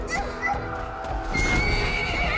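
A horse in Assassin's Creed Valhalla lets out a loud, close neigh with hoofbeats clopping beneath it, heard in a short burst over game sound effects.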